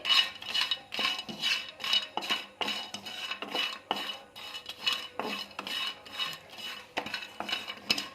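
Spoon stirring spices as they dry-roast in a metal pan for North Karnataka masala powder, with rhythmic close scraping and light clinks repeating steadily throughout.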